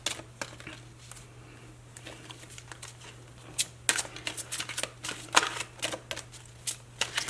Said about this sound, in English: So let's pull some more cards about this.